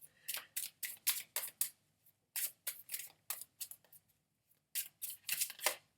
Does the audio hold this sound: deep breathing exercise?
no